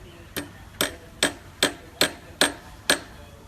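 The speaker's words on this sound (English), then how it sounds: "And then just hammer. Same hammer, yeah?" Outdoors, a hammer strikes seven times in an even, steady rhythm, each blow a sharp, fairly close knock with a short decay and no talk over it.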